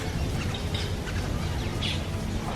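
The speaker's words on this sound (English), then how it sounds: "there's some ducks here" Ducks at a Caribbean beach resort in Punta Cana calling with a few short squawks and chirps, faint against steady outdoor background noise, with no speech.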